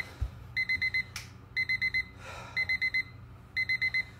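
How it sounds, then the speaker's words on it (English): Workout interval timer during a footwork drill, sounding bursts of four quick electronic beeps repeated four times at about one-second intervals, loud and close with faint background noise between. "On the beeps, keep going."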